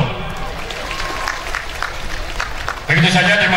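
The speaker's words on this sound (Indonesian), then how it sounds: "Tepuk tangan dulu." A crowd at an Indonesian community opening event in Cisayong applauds, a continuous wash of clapping and crowd noise that swells louder near the end.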